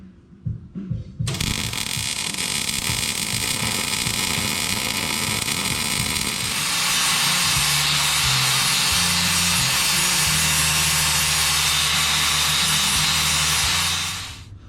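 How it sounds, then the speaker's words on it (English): Harsh, continuous metalwork on a steering axle truss: crackling welding followed by a loud, steady angle-grinder whine smoothing the welds, running almost unbroken for the whole stretch before stopping at the end. "So I'm gonna run a few little beads across there and just fill that stuff in with the welder, grind it down smooth."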